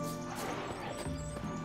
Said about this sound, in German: Irgend so ein Ding greift mein Pferd an.